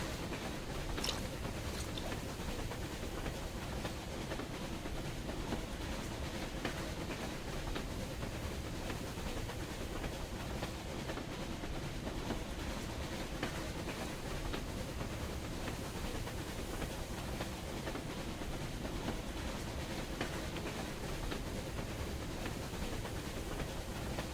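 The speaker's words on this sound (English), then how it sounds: "How does this train manage to go through those tracks?" Train in the game Metro Exodus rolling over broken, debris-strewn tracks, a constant low rumble with faint rattling and clatter, steady and unbroken throughout.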